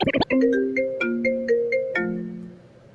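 A phone ringtone plays a bright melodic electronic tune of sustained tones, loud and close, with no talk over it, and the last note rings out and fades.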